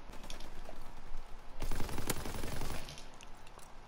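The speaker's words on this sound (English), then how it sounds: "Alright, I need to use a machine gun." Rapid machine gun fire from Call of Duty WW2, a dense burst of close, loud automatic shots in the middle, with quieter distant gunfire before and after.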